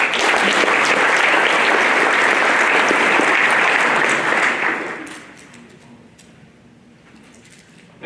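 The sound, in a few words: round of applause for an apprentice at a banquet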